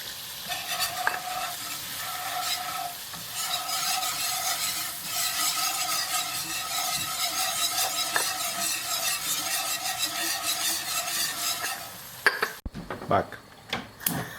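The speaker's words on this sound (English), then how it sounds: "We are frying flour." Flour fries in a hot pan like the start of a béchamel, a loud steady sizzle with repeated scraping strokes of a utensil stirring, ending in a few clatters of cookware.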